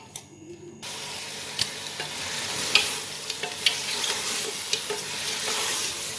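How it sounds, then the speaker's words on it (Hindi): Steady sizzling of mutton frying in hot oil for a korma, with occasional crackles and pops and some stirring, no voices. "अब इसको थोड़ा सा भून लूँगी, सिर्फ 1 मिनट के लिए, इसी तरह।"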